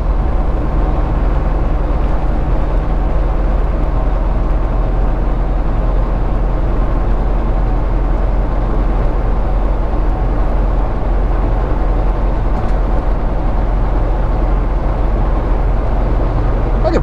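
Steady engine drone and road rumble from a vehicle cruising along a highway at about 45 in a moderate gear, continuous and unbroken throughout, dense low-end noise with no talk.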